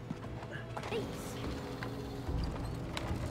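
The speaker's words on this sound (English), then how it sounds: "Oh, I want to ride a horse!" Horse hooves clip-clop in the video game It Takes Two, a run of light, uneven taps mixed with mechanical clanks and game effects, with players' voices over them.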